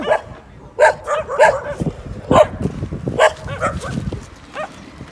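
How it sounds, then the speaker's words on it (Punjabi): Several village dogs bark repeatedly in short loud bursts along a rural road, some yips and whimpers mixed in, with a constant low background rumble. "ਪਿੰਡਾਂ ਵਾਲੇ ਕੁੱਤੇ ਹੈਗੇ ਉਹਨਾਂ ਤੋਂ ਬਚ ਕੇ ਰਹਿਣਾ ਇਹ ਭੌਂਕਦੇ ਜ਼ਰੂਰ ਹੈਗੇ ਆ"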